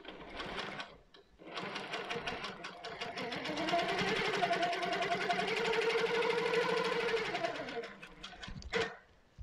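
A Handi Quilter longarm quilting machine with a Pro-Stitcher runs steadily, stitching around the edges of placemats on a frame with channel locks at stitch length 6. The close, continuous motor whir lasts about eight seconds before it stops.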